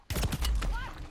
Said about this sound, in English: Fuck, I've been sniped.